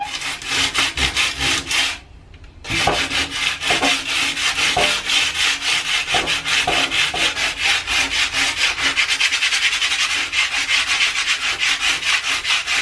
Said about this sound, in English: I'm just sanding it enough to remove some of the paint.